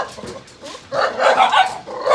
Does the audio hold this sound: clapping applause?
no